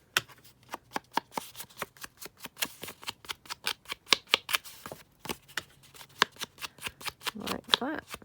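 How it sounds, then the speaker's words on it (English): Paper edges for junk journal pages are dabbed with ink, giving a rapid series of crisp, close tapping strikes in a fairly regular rhythm that pauses briefly midway before resuming. "ink the edges of this"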